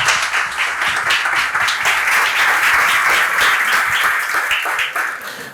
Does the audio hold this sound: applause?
yes